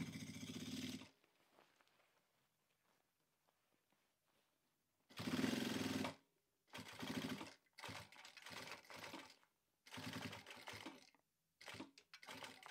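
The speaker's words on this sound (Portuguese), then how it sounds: "vou rebater aqui o acabamento do viés e também costurar a minha alça" A sewing machine stitches the bias binding and strap of a structured fabric tote bag in several bursts of whirring, some long and some short, separated by quiet pauses; close and fairly faint, with no talking.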